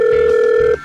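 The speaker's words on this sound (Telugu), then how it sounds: "ఫోన్ చేయి, ఫోన్ చేయి" A telephone ringback tone plays while a call is placed, one steady loud electronic tone lasting most of a second before cutting off abruptly.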